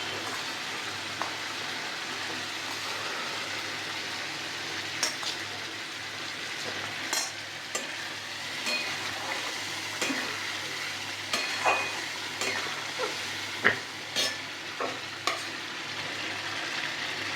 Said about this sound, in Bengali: এবার এই ভাজা আলুগুলো মশলার মধ্যে দিয়ে দিচ্ছি।